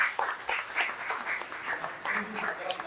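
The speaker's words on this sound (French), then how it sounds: "Je peux applaudir" Applause from an audience at a delegation visit event fills the room, many hands clapping in a dense, moderate wash with a voice speaking over it.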